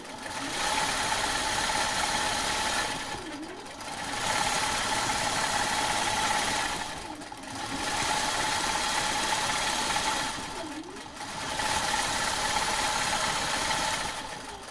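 A computerized quilting machine stitches steadily at a fast, even hum, pausing briefly at three regular intervals before resuming, close and moderately loud with no talk.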